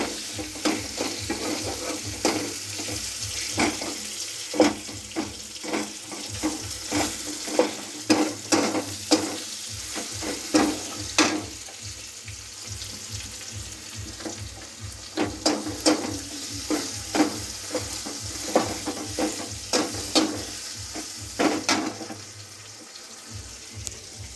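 Tomatoes frying in a pan for a fish curry, with steady close sizzling and repeated sharp scraping and stirring clicks throughout, no talking.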